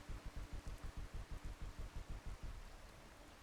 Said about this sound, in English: too bad I can't call the storm off